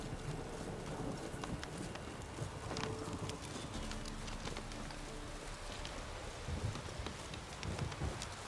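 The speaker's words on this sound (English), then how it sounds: "Run, Roach" A horse gallops in a video game with steady, rapid hoofbeats under a constant hiss like falling rain, fairly faint throughout.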